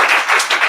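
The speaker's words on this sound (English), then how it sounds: "Clap now." Audience at an improv theatre show clapping together to cast a vote, a short burst of close, dense applause with brief rises and dips.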